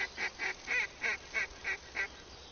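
Goose honks from a goose call in a hunting simulation game: seven evenly spaced honking calls in a steady rhythm, moderately loud and close, with no talking over them.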